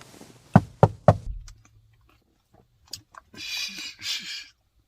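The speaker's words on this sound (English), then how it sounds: "There's someone knocking on the window." Three sharp knocks strike the window of a Subaru Outback during an overnight car camp in a mall parking lot, close and loud, followed by quiet and faint rustling.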